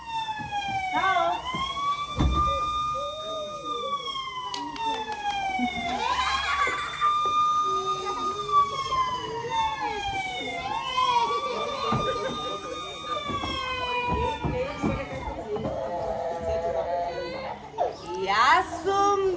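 An ambulance siren wails in repeated rising and falling sweeps, loud and close, while children's voices speak and call over it.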